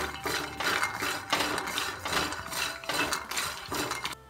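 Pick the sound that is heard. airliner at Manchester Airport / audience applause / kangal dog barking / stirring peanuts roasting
stirring peanuts roasting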